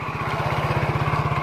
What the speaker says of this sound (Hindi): ये जो मोटरसाइकिल आ रहा है